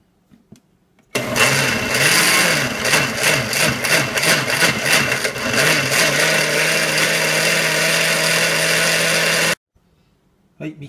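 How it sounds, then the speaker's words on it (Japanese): An electric blender purées asparagus peel potage soup with milk, a loud steady whirring roar that starts abruptly, runs continuously with slight wavering for about eight seconds, then cuts off to near silence. "そしてミキサーにかけます。"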